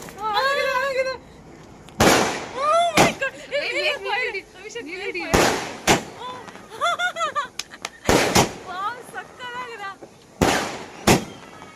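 Firecrackers go off for a birthday celebration, with about seven sharp, loud bangs spaced unevenly through the stretch, some in quick pairs, while people talk and shout between them.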